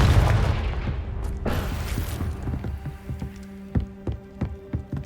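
A Confringo explosion spell in the video game Hogwarts Legacy opens with a loud booming blast that decays into a rumbling tail. Scattered crackling impacts and debris patter follow afterward.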